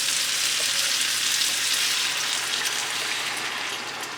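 Coconut milk, two cups, pours into a hot pan for coconut cream chicken, giving a steady, loud, bright sizzle and bubbling hiss that eases slightly toward the end, with no voices.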